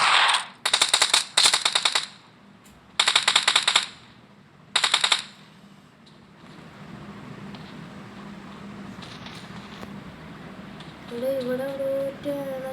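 Bursts of automatic gunfire from the video game BGMI crackle in quick rapid-fire volleys, several loud strings in the first five seconds, then fading to a low hum with a faint tonal game sound near the end.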